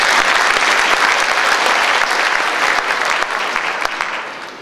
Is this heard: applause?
yes